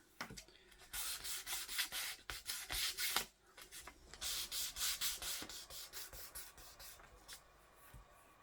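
Fine 7000-grit abrasive is rubbed back and forth on a budget guitar in quick, rhythmic bursts of soft, close sanding strokes with brief pauses between sets.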